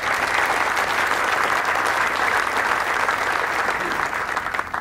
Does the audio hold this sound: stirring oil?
no